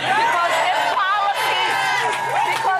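A town hall crowd cheers, whoops and chatters loudly to welcome Congresswoman Ilhan Omar home, with overlapping shouting voices that stay dense throughout.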